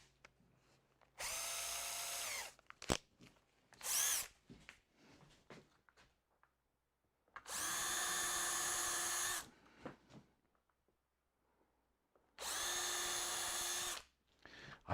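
A small 2mm bit drilling a tiny hole in wood near the edge of a lathe cart, in three steady whining bursts of a few seconds each, close and loud, with quiet handling noises between.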